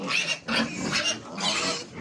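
Piglets crowd a large old sow to suckle, producing loud, close, overlapping grunts and snorts in quick irregular bursts with barely any pause between them.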